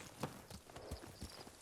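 A horse's hooves clip-clop in a steady, moderately close rhythm through the Ghost of Tsushima game world, with soft ambient texture around the repeated thuds.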